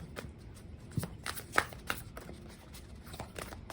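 Tarot cards being shuffled and drawn at close range, a run of soft papery riffles and slaps with a few sharper card snaps, fairly quiet overall.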